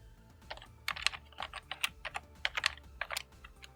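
Fingers type an address on a computer keyboard, a quick irregular run of crisp key clicks close by that builds to a dense burst of taps.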